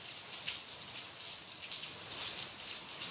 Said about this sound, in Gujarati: કેવડો બધો વરસાદ